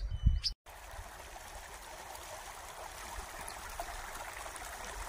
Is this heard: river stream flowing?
yes